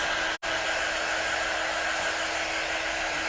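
A hair dryer runs steadily at close range, blowing to dry paint on homemade St. Patrick's Day décor, with a broad, even whoosh broken only by one brief dropout near the start.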